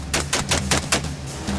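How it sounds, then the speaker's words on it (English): Carbines fire on an outdoor gun range in a rapid string of about six sharp, evenly spaced shots, loud and close, with a low steady hum underneath and no talk. "provide a constant rate of gunfire"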